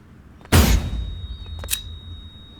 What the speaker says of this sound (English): This is the last weapon. This is the overall, the flashbang.